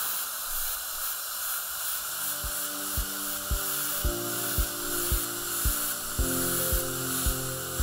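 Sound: silicone impregnated polishing brush polishing a dental restoration

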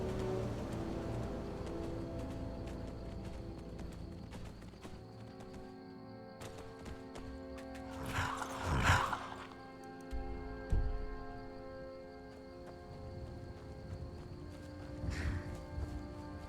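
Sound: horse hooves clip-clopping in a video game

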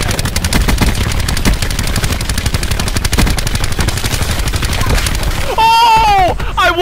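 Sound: gunfire in Black Ops 4 video game

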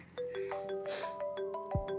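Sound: phone ringing

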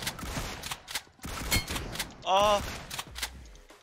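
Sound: pistol gunshots in the video game PUBG Mobile

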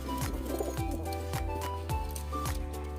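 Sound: pigeon cooing

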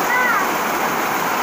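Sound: floodwater rushing through a flooded neighborhood

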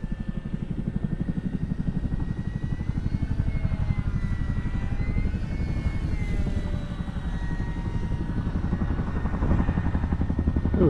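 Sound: Chinook helicopter hovering

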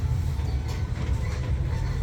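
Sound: sightseeing tourist train ride through a French town

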